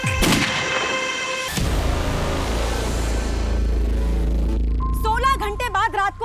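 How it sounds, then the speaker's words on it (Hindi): Two loud, sharp gunshots crack close together at the start, followed by a heavy low rumble, then tonal, warbling sounds toward the end. "फिर गोली की आवाज आई है"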